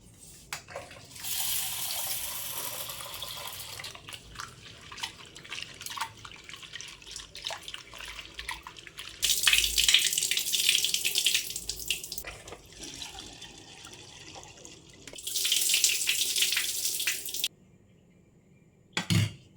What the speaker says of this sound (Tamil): நல்லா ஒரு நாலஞ்சு தண்ணி ஊற்றி வாஷ் பண்ணி எடுத்துக்கலாம்